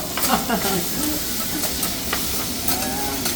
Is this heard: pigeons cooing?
no